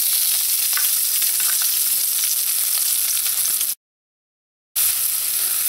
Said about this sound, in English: So just let this onion cook until it starts to turn a light brown color.